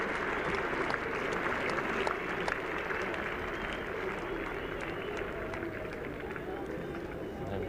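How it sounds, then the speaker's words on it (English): Cricket crowd at Headingley during the 1981 Ashes Test, applauding and cheering after a wicket falls; steady dense applause and crowd hubbub fill the clip at moderate distance, broad and continuous without a break. "An animated crowd here at Headingley"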